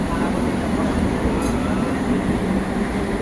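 The 22301 Howrah–New Jalpaiguri Vande Bharat Express pulling out of Howrah, a steady low rumble and rolling rail noise, loud and constant throughout.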